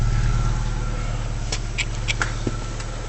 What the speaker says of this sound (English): When the revs drop down to about 700, 750, it's noticeable chuffing.